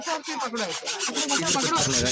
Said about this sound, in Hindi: एक आरी की पत्ती और है, वो भी चलाइए।